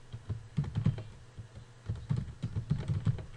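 Computer keyboard typing in quick irregular bursts of soft clicks, close and moderately quiet, with brief pauses between runs of keystrokes.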